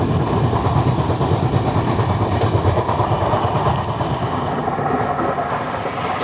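Onboard the Sachkhand SF Express (12716, Amritsar to Nanded) as it crosses an overpass above the Jhansi–Gwalior line: a steady, loud rumble of coaches and wheels with faint rhythmic clatter, continuing unbroken and without talk.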